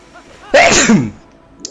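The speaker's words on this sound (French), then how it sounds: "Parce que je sentais que j'allais éternuer." A single loud sneeze from a man playing a video game, close to the microphone, a brief sharp burst with a faint breathy trail, against quiet background sound.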